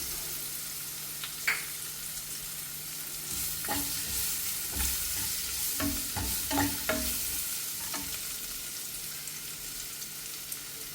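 Capsicum tossed into a hot pan for a sweet corn paratha filling, giving a steady broadband sizzle throughout with occasional sharper scrapes and clicks of stirring, close and fairly loud, no talking.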